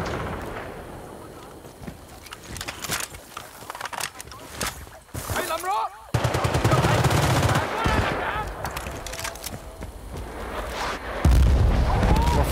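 Mortar and gunfire in a shooter game, loud bursts and booms hitting repeatedly up close, with heavy rumbling impacts in the second half and excited voices talking over the fighting.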